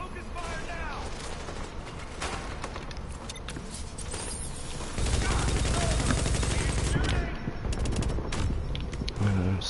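Dense automatic gunfire from hostiles attacking in The Division's Underground expansion: continuous rattling volleys and sharp shots that grow heavier halfway through, with voices mixed in.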